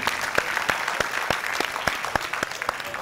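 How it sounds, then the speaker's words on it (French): Applause from an audience at a Guinean school award ceremony, steady clapping with distinct sharp claps standing out over a dense wash of hands, moderately loud and continuous with no talk over it. "On les applaudit."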